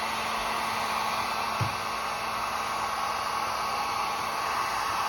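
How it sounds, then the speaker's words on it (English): Heat gun blowing a steady hot-air roar while melting a foam pool noodle, a continuous loud hiss filling the whole stretch with one small knock near the middle. "the heat gun gets very hot"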